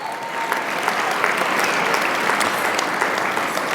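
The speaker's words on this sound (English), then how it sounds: "Can we give her another round of applause, please?" An audience at a Hispanic chamber of commerce awards gala applauds in a dense, sustained round of clapping that holds steady and loud with no talk over it.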